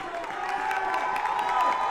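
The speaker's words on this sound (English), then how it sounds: "The crowd's getting loud." Spectators cheer and shout at a high school mixed ultimate frisbee state championship final, a steady roar of crowd voices that holds level and builds slightly across the stretch.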